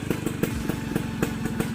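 A Vespa scooter engine runs at a steady idle, a close, loud putter of evenly spaced beats with a rough mechanical clatter and no voices over it.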